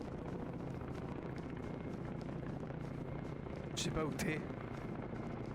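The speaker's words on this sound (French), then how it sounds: "C'est un hélicoptère." A constant low helicopter rotor drone fills the background while a person talks nearby in a snowy outdoor setting, with a brief gusty swell partway through.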